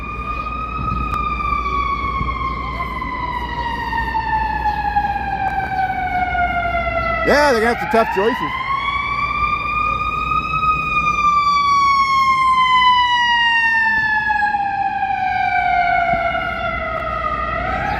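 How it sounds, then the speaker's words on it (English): A loud emergency siren wails, sweeping slowly down and back up in pitch, while someone says a few words over it. "Here comes some more sirens."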